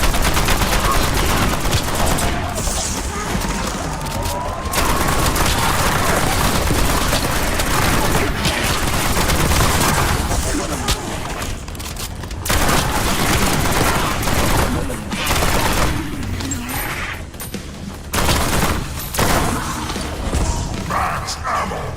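Rapid automatic weapon fire during a fire rate test in Black Ops 7, a dense, loud burst of gunshots running almost continuously with brief pauses, mixed with game sounds and talk.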